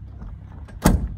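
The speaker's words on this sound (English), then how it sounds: "And everything like clunks, you know, like the door." An all-original 1965 Ford Mustang V8 door shuts with a single firm, solid clunk close by, after a moment of quiet low background rumble.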